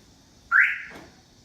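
A 1994-1997 Honda Accord keyless entry system gives one short electronic chirp as the car locks itself, fairly close in an otherwise quiet setting.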